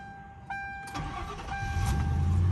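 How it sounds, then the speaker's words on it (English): A Ford Crown Victoria with a digital dash cranks and catches right away. The engine settles into a rising, rumbling idle, close and loud, with no voices. "I'm gonna go ahead and start this car up now."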